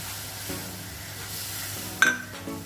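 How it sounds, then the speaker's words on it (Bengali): Prawn juice and ground masala sizzling in a pan, a steady close frying hiss with a sharp metallic clink of a utensil partway through. "চিংড়ি মাছের যে জুসটা আমি দিয়েছিলাম ওটা এখন ভালো করে কষে গেছে"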